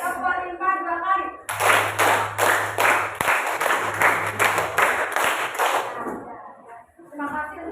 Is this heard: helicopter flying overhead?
no